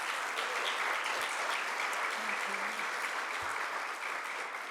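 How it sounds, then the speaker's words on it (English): A church congregation at a Sunday service applauds steadily, a dense wash of clapping from many hands that holds evenly from start to finish. "So a round of applause for him."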